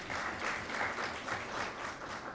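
A steady round of audience clapping at a World Malaria Day event, fairly faint and distant, continuous and even without voices on top.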